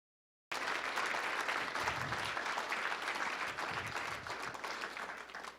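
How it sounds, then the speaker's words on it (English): A ceremony audience gives young award honorees a round of applause: dense, sustained clapping that starts abruptly and tapers slightly toward the end, with faint crowd murmur. "We ought to give them all a round of applause."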